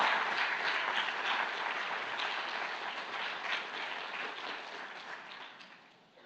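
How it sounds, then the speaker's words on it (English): An audience applauds a set of speakers at a postdoc talk event, steady moderately loud clapping throughout that gradually fades toward the end. "So let's give a round of applause to all our speakers."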